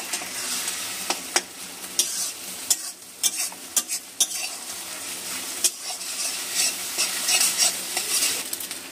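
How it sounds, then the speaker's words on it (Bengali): Egg frying in a pan while being broken up for chilli pasta, a soft steady sizzle broken by sharp scrapes and clicks of a utensil against the pan, with no talk. "আমার ডিমটা ভাজা হয়ে গেছে"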